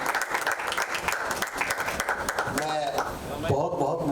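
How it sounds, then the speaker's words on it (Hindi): A crowd gives loud applause at a Bollywood debut song launch event: dense, continuous clapping fills the room, and a voice rises over the noise toward the end. "जोरदार तालियों के साथ स्वागत करते हैं"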